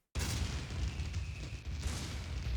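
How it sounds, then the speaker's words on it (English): Fireworks celebrating becoming league champion in the Pokemon Black 2 video game roll as a dense, continuous booming rumble of bursts, loud and steady from start to finish. "Speaking of fireworks from earlier, now we have them as we bask in our glory and become league champion"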